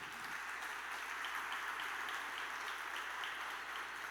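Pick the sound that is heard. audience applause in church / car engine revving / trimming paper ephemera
audience applause in church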